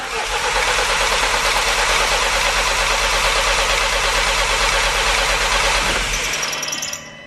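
A VW Golf R Mk7 engine cranks on a jump pack in a steady, loud, continuous churn for about six seconds, then cuts off abruptly and falls quiet.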